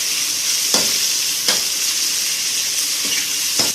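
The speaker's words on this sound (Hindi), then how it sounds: "लहसुन के साथ चिकन को हमने थोड़ी देर के लिए भून लिया है" Chicken sizzles loudly with crushed garlic in a hot pan, a steady close frying hiss broken by a few sharp scrapes of stirring.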